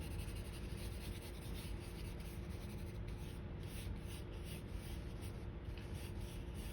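Graphite pencil shades on paper for a sphere drawing, a continuous soft scratchy rubbing with steady back-and-forth strokes, close and quiet, without speech.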